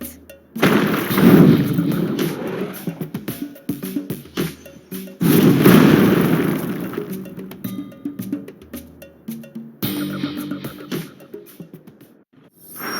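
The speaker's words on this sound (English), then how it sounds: "What was that just now? A cannon?" Three heavy booming cannon blasts in the video game Sand Land, each followed by a rumbling decay, spaced several seconds apart and loud against a busy game soundtrack.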